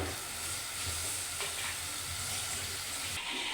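A homestyle sardine curry sizzles and hisses steadily in a hot pan just after chilli powder goes in, heard up close with no voices.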